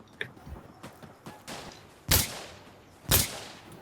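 Gunfire in the tactical shooter game Insurgency Sandstorm: two loud, sharp shots about a second apart stand out over fainter clicks and scattered small impacts, with no talking.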